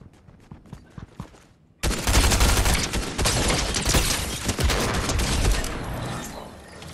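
Fortnite Battle Royale duos gunfire: after a few faint clicks and taps, a sudden loud burst of rapid shots erupts and continues as dense, sustained firing that slowly tapers off.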